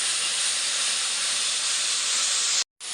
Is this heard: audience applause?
no